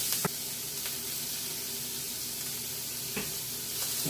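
Garlic and onions sizzle steadily in a pan over medium-high heat, a loud continuous frying hiss with a few soft clicks from stirring, close up and without talk.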